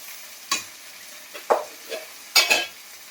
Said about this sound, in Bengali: দিয়ে আমি মশলাটাকে ভালো করে কষবো